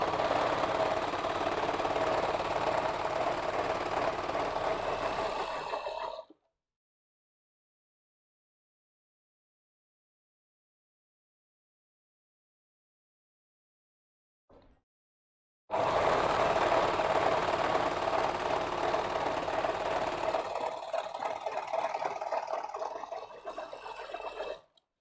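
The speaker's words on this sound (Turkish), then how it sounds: "Tabii ki 4 iplikle dikiyorum arkadaşlar." A four-thread overlock sewing machine joins the shoulder seams of a dress, running with a steady buzzing whir in two long stretches separated by about ten seconds of silence, with no talking.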